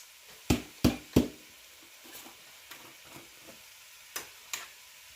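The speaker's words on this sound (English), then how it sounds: "And then I'm going to add my garlic." Minced garlic going into a pot while making lasagna, with a soft sizzle and several sharp clinks of a spoon against the pot, louder at first, then lighter and spaced out, with no talking.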